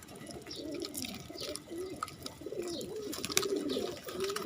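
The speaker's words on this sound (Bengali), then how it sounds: "কবুতরগুলা কত সুন্দর এক জায়গা বসে বসে খাওয়া দাওয়া করতেছে" Several pigeons coo nearby in soft, overlapping rolling calls, with light fluttering and scattered clicks in the background.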